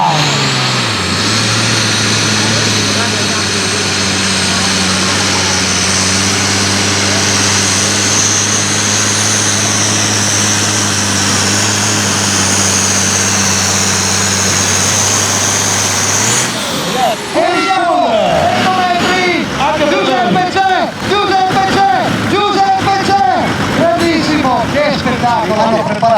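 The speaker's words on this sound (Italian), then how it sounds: "Hanno preparato un motore Continental V12 con un turbocompressore" A pulling tractor with a turbocharged Continental V12 engine roars loudly at a 2015 tractor pulling event in Trecasali, a sustained droning howl with a steady tone that cuts to rough, crackling bursts partway through.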